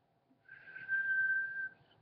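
A single sustained lip whistle made without fingers, one steady high tone held for about a second and a quarter, close and fairly loud, with no talking.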